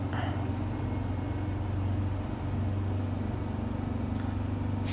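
A split-screen VW Beetle engine runs at full throttle over the crest of a hill, a steady, loud, close droning hum that holds unbroken for the whole stretch.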